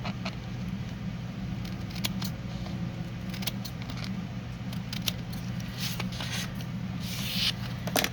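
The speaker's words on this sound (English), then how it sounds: "So I'm just going to run my scissors along this little edge here and take some of this white off." Scissors snip and slide along the edge of 12x12 paper in a run of crisp, quick cutting strokes, close and fairly quiet, with light rustling between cuts and no talk.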